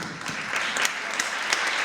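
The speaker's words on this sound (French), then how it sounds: "j'aime pas spécialement qu'on applaudisse ça" Audience applause at a panel session reviewing a law after ten years, a dense, even patter of many hands clapping that stays steady and moderately loud throughout.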